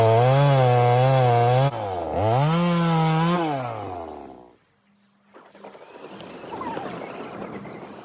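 A chainsaw revs loudly while cutting into a tree during felling, its engine pitch rising and falling for about four seconds before cutting off and leaving quieter outdoor rustling.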